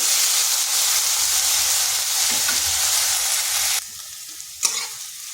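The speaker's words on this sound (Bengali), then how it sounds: "আলুগুলোকে এইভাবে নেড়ে চেড়ে হালকা একটু ভেজে নিয়েছি।" Potatoes stir-fried in oil give a loud, steady sizzle up close. The hiss drops suddenly near the end, followed by a brief stirring clatter, with no one speaking.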